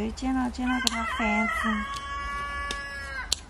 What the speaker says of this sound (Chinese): 公鸡在叫